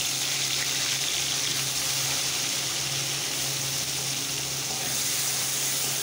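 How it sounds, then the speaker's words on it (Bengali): Paneer fries in a pan of oil with a little turmeric, making a constant, dense sizzling hiss at close range that stays even throughout with nobody speaking. "পনিরে হালকা করে একটু ভেজে নেবো, বেশি ভাজবো না"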